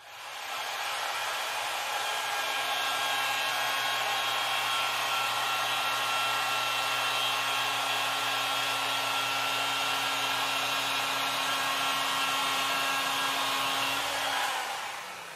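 A rotary polisher buffs car paint with a continuous loud, even whir that spins up at the start and winds down at the end, with no talking.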